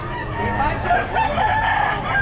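A rooster crows at a pet market, its call rising over murmuring voices and general crowd noise.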